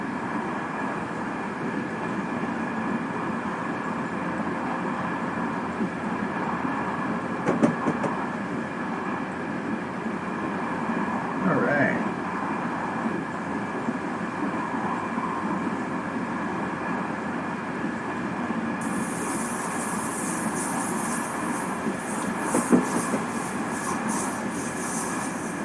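Pacific Surfliner passenger train in Train Simulator 2021 cruising along the coast between San Juan Capistrano and San Diego, a steady low rumble of wheels and engine with a few brief clanks and a hiss rising near the end.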